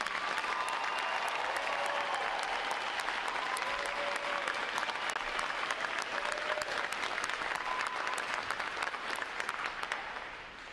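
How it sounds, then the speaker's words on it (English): Long, even roar of crowd applause at a U.S. Navy recruit training graduation ceremony, many hands clapping steadily at a distance for several seconds before tapering slightly at the end. "Please join me in giving them and the 10 other graduating divisions here today a round of"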